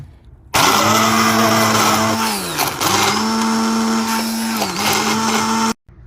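A blender chopping onion whirs loudly and steadily, its motor pitch dipping briefly twice as it chops, then stops abruptly.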